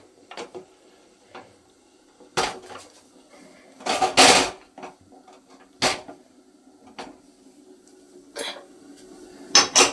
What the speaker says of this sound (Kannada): ಕುಕ್ಕರ್ ಮುಚ್ಚಳನ ಕ್ಲೋಸ್ ಮಾಡ್ತೀನಿ